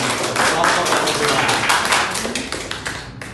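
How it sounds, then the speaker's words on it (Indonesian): A classroom of students applauds together during a microteaching lesson, a dense, steady wash of many hands clapping close by, holding strong for about three seconds before thinning slightly at the end. "Silakan tepuk tangan."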